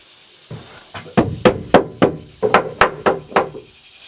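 Close, solid hammer blows strike in a steady rhythm, about nine hits with a brief pause partway through.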